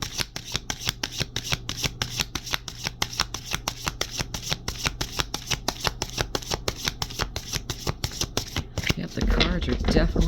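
Tarot cards shuffled in a rapid, steady riffling rhythm, close and crisp for about nine seconds, then stopping as a rustle takes over at the end.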